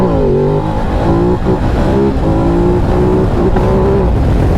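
A 2023 Ducati Desert X motorcycle pulling a second- or third-gear wheelie, its engine loud and close, revving hard and climbing in pitch through the gears.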